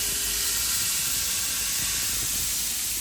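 Loud, steady hiss of hot oil sizzling as the tempering for khaman is made, a dense continuous crackle that fills the whole moment without any talk.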